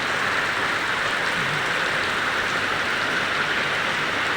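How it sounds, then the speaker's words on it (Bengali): Heavy rain pours down on a flooded village road, a dense, loud and unbroken hiss of falling water that fills the whole moment with no voices. "মুষলধারে বৃষ্টি হতেছে, ভারী বর্ষণে রাস্তাটা ডুবে যাইতেছে"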